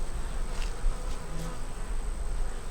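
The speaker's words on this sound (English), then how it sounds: "the whole top is covered with bees there" Honeybees buzz steadily across the covered top of a beehive, a close, continuous insect drone with no talking.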